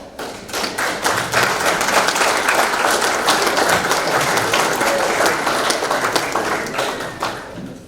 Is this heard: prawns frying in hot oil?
no